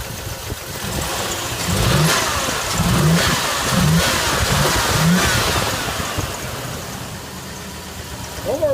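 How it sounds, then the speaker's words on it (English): A 2001 Dodge Dakota engine with a suspected cooked engine and clacking valves revs several times in a rhythmic series of rising bursts over a rough idle, close by, with talk partly overlapping. "Let's rev her up."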